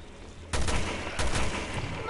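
Two loud bursts of gunfire from the video game Resident Evil Revelations 2, the first at the half-second mark and a second about 0.7 seconds later, each ringing on densely with no voices over them.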